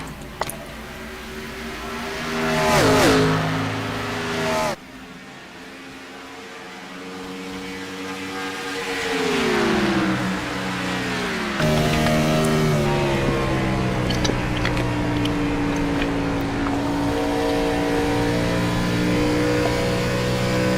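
NASCAR Gen 4 Cup cars race at Indianapolis in a racing video game, their engines droning steadily with rising and falling pitch as they rev and shift. The roar runs continuously and loud with no talking.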